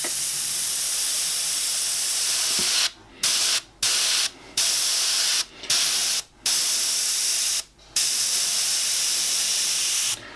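Airbrush spraying paint onto a skull design, rounding off stencil edges. Loud continuous air hiss, close up, cut by about six brief pauses as the trigger is released, with no talking.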